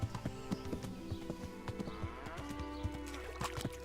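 Horse hooves clop in the Kingdom Come: Deliverance video game, a quiet run of rhythmic hoof knocks mixed with game music and ambient tones.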